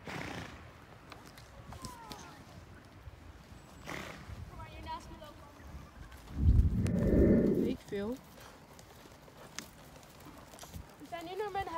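A pony walks outdoors beside a meadow, its hooves clip-clopping faintly and irregularly while people chat in Dutch, with a louder rustling burst midway.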